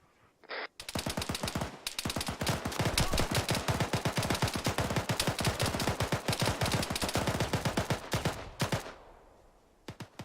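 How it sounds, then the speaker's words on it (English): Sustained automatic gunfire in a tactical squad-training video game, a dense rapid stream of loud shots for several seconds with a brief pause near the start, then tapering off. "Shooting over you."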